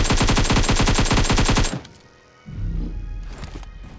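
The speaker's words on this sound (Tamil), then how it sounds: "சுடு சுடு சுடு இப்ப சுடு" A rapid burst of automatic gunfire in a shooting video game, loud and close, rattling fast for about a second and a half before stopping; a fainter rumble and scattered sounds follow.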